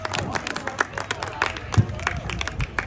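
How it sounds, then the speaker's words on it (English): A crowd claps steadily for a few seconds, a dense patter of applause from a room full of people at an elementary school STEAM night. "Let's give him a big round of applause."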